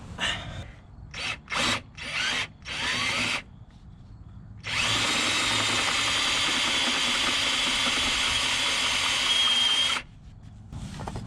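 A new half-inch drill bit bores into axle housing metal during a Dana 30/44 Johnny Joint install: several short drill bursts, then one long steady high-pitched grinding run of about five seconds, close and loud, with no talk.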